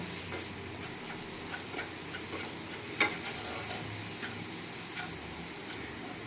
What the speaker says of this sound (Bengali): এরকমভাবে জল অ্যাড করে অল্প অনবরত নাড়িয়ে যেতে হবে।